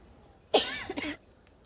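A single short, throaty cough from a person with a cold, close and fairly loud, breaking into a couple of quick bursts before quiet returns.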